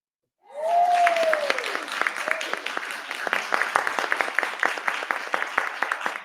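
A studio audience at a talk show claps for a guest named Dana; a rising vocal whoop opens, then many hands clap in a dense, lively burst that continues steadily.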